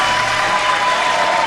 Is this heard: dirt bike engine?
no